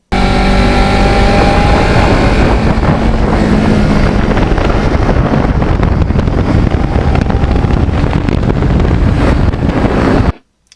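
A Kawasaki Ninja 650R motorcycle is ridden along open roads, its engine a continuous roar mixed with heavy wind rush across the microphone, loud and unbroken until it cuts off abruptly at the very end.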